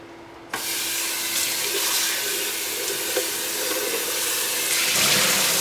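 Running water pours steadily from a sink tap into a Vitamix blender jar being rinsed, a continuous splashing rush that swells slightly toward the end.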